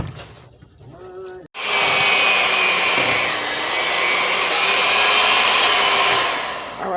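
An electric hand mixer whirs loudly and steadily through sour cream muffin batter, starting abruptly after a brief quieter moment and running continuously with a slight dip in pitch midway, no talking over it.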